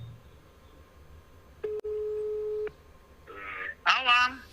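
A telephone ringback tone sounds while a Macedonian evening talk show host calls a viewer: one steady, clear tone lasting about a second, followed by a brief bright burst and voices.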